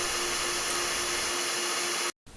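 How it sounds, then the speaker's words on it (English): A hair dryer blows air through a plastic tube in a propulsion experiment, giving a steady, even hiss of rushing air with a faint constant hum, before cutting out abruptly near the end. "the air coming from the hairdryer could blow straight out and not be deflected up"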